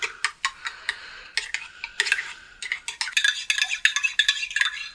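A spoon stirs a mayonnaise and sauce mixture in a bowl for pork pot roast, producing repeated close clinks and scrapes of metal against the dish in an irregular, quickening rhythm with no talking.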